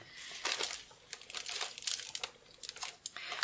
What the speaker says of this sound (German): Wo habe ich denn jetzt die Tüte mit den ganzen übrigen Steinchen hin?